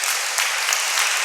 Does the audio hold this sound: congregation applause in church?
yes